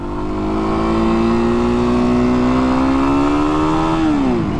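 A 2024 Kawasaki KLX300 motorcycle engine pulls in first gear, its loud, close whine rising steadily for about four seconds before dropping sharply as the throttle closes.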